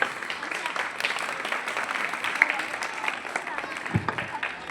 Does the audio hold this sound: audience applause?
yes